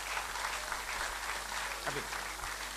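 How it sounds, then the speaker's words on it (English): Audience applause for the executive director at a Ghana Institution of Engineering event, dense continuous clapping from a crowd, fairly distant and steady, with a faint voice briefly audible. "Let's give Engineer Kwabena Ejepong a big round of applause."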